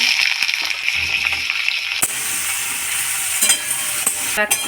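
Pumpkin and potato dropped into hot oil with panch phoron in a pan, a loud sizzle flaring sharply as they go in, with stirring scrapes and clatter over continuous frying hiss.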